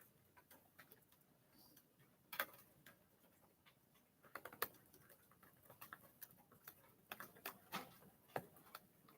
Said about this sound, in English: Visibly typing along here